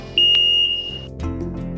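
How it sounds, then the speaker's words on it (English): A Breeze S mobility scooter's handlebar buzzer gives a short, loud, high electronic beep lasting under a second, close up, followed by a low mechanical hum. "buzzer controls on both handlebars"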